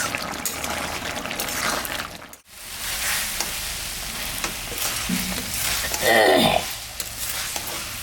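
Country chicken braised and stirred in a pan gives a steady frying sizzle with scraping stirs, one brief dropout, then a louder sputtering burst near the end, close and no talk.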